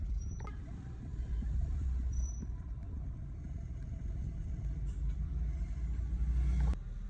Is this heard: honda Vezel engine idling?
yes